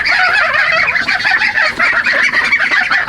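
Turkey gobbling loudly and close in a backyard near ducks and geese, a continuous rapid warbling gobble filling the whole stretch.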